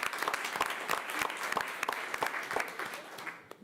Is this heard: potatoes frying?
no